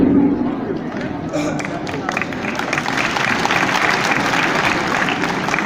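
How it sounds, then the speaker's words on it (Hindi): Audience applause at a spoken lecture, a sustained, loud, dense clapping that rises and holds for several seconds with a little crowd murmur beneath. "ताली बजाने वाली बात बिल्कुल भी नहीं है"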